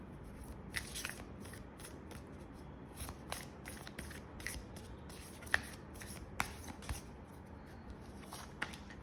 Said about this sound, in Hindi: यहाँ से हम 3 कार्ड्स पुल करेंगे